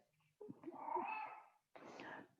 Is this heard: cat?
yes